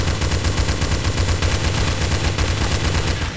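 Relentless rapid gunfire in the video game Trouble in Terrorist Town, loud, close and unbroken automatic shots firing in a dense stream throughout.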